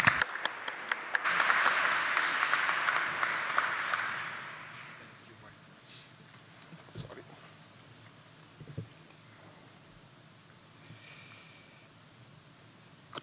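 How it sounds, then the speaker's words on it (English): An opening-remarks audience gives a warm round of applause as a speaker comes to the stage. Dense clapping swells for about four seconds, then fades into quiet room noise with a few faint thumps and voices. "Please give him a very warm round of applause as he comes to the stage."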